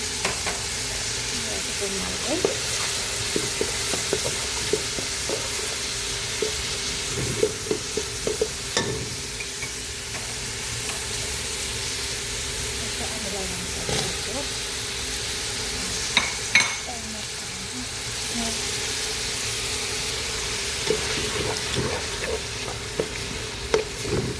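Onions fry in a pan for a rice dish, a steady close sizzle broken by repeated scraping and knocking as a utensil stirs them, with occasional louder clatters.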